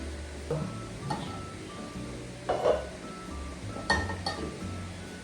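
Ladle clinks against a pot while pork-rib sinigang with kangkong is mixed, a few sharp metallic taps scattered over a low background rumble, no talk.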